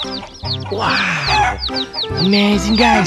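Rainbow-colored chickens cluck and chirp repeatedly at close range in a quick, busy rhythm, with a person's excited voice speaking over them.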